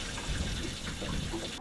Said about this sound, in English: I'm just gonna let this water recirculate for a little bit